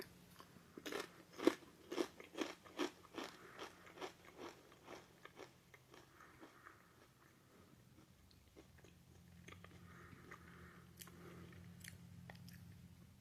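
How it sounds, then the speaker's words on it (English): Crisp crunching bites followed by steady chewing, close and loud at first, then softer wet chewing noises continuing alone. "I'm really sorry if you hate chewing noises"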